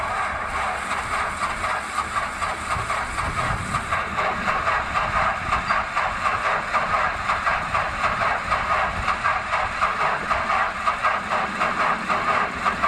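A Great Lakes biplane engine starts for the first time in 54 years, settling into a steady, rhythmic chugging run that pulses evenly and loudly from start to finish.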